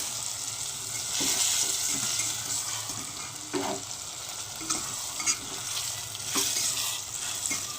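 Marinated chicken is stirred into frying onions in a pan, with a continuous close sizzle and irregular scraping and clanking from the spoon, and no talking.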